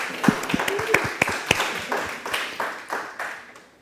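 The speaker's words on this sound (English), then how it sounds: "Give him another round of applause" A small audience at a marketing talk claps in a sparse, uneven burst, with individual hand claps standing out and slowly thinning as the applause dies down.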